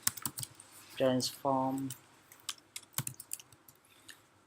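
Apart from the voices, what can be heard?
typing on a computer keyboard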